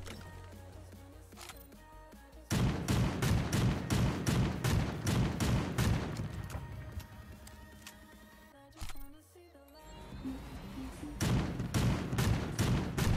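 Rapid bursts of gunfire from the video game Creative Destruction, loud repeated shot volleys in quick rhythm, pausing briefly midway before resuming, with faint voices underneath.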